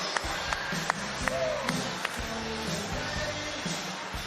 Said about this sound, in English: The crowd here with a huge round of applause for both these warriors